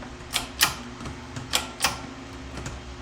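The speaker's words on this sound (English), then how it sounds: "it makes a little bit of a clicking sound when it goes through" A clicker press cuts through leather on a CNC setup, giving sharp, close clicks in an uneven series of about half a dozen over a quiet hum.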